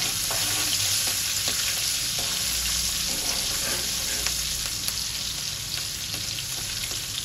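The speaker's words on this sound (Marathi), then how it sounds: "मिरची थोडी परतून घेऊया" Green chillies sizzle steadily in hot oil with cumin and asafoetida for kurmura poha, a dense, even crackle with occasional stirring clicks throughout.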